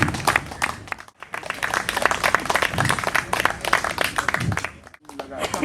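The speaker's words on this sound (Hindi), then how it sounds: "तालियों के साथ गड़गड़ाहट होना चाहिए" An audience at an outdoor World Environment Day gathering in Patna applauds with dense, continuous clapping, while voices talk over and through the applause.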